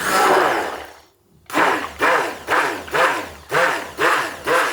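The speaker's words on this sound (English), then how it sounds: "now we get our immersion blender, which I'd normally use for making soup. And we're going to mix." An immersion blender whirs in short repeated bursts through a melted beeswax soap mixture, starting with one longer run, then a pause, then about six evenly spaced pulses, close and fairly loud.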